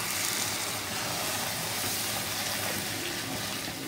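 Tamarind water is poured into a pan of mashed elephant yam, a steady close, full-bodied rush of liquid lasting a few seconds with no talking.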